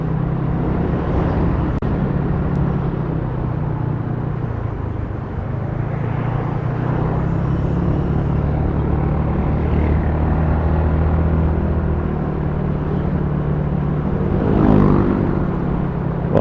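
A carbureted Yamaha Mio Smile CVT scooter runs steadily with a low, continuous engine drone and rumble, loud and close for the whole stretch, with slight rises in pitch as it pulls.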